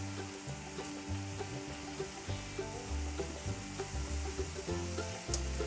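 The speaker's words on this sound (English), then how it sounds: "Give it a stir." Sizzling gravy with sweet onions caramelizing in a pan as it gets stirred, a steady close frying hiss with soft scraping motions throughout, background music running underneath.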